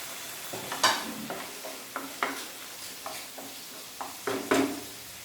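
Green chillies tossed into a frying pan for chilli chicken with onion and capsicum, a low sizzle broken by a series of sharp spatula scrapes and clinks at irregular intervals, no talk.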